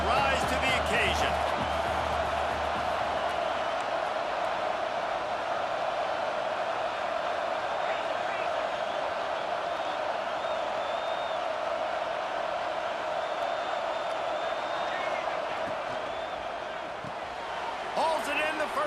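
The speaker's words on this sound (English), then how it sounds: "Fourth down, and this crowd trying to help this defense rise to the occasion." A stadium crowd in College Football 26 roars as a continuous, loud wash of noise on a fourth down, with a few sharp thuds near the start and end.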